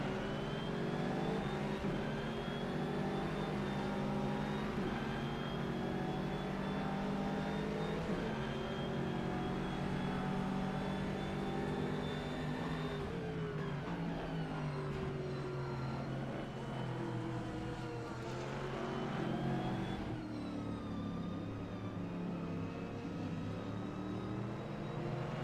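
A BMW race car engine drones steadily at Silverstone in a racing video game, a continuous loud whine shifting pitch through gear changes and acceleration, under a commentator's voice.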